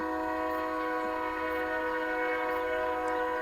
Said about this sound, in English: That was one loud blast on the hooter.